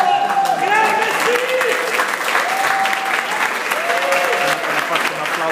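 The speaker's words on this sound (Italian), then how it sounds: "Ragazzi, un applauso a chi ci ha dato la gioia di vivere di nuovo!" Crowd applause rings out at the opening of the Apple Store in Catania, a dense, loud clapping that lasts the whole time, with cheers and raised voices mixed through it.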